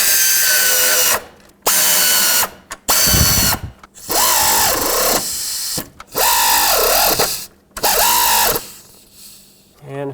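A power tool drives the throttle-cable bracket screws into the intake of a 5.4L 1997-2003 Ford F-150 engine. Loud close whirring bursts rise and fall in pitch, separated by short pauses with ratcheting clicks.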